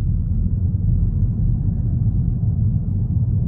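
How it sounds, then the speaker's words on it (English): Kia Stinger GT-Line rolling over concrete pavement, heard from the cabin as a steady low rumble of tyre and road noise that stays constant and moderately loud, with no talking. "And we'll step out into this concrete pavement. Check out the road noise."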